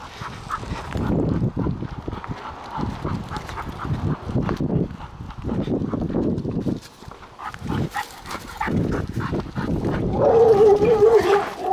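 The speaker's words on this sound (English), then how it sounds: "dogs are barking at her" Dog barking repeatedly and excitedly out on a walk, a pit bull and other dogs, with loud irregular barks under rustling and some quacking-like yelps, then a whining tone near the end.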